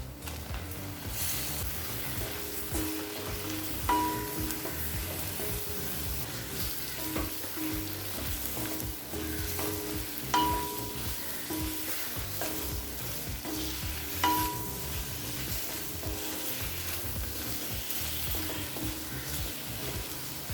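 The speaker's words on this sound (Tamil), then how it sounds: "இப்போ அடுத்தது 200 கிராம் மஷ்ரூமை இதில் சேர்த்துக்கலாம்." Mushrooms, 200 g, fry in oily chili masala for a mushroom kuzhambu, with a continuous dense sizzle and repeated stirring scrapes and occasional utensil clinks throughout.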